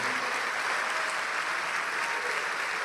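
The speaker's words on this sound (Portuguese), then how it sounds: "Vamos aplaudir mais ao nome de Jesus." A large congregation applauds during a church service, dense steady clapping filling the room for several seconds without letup.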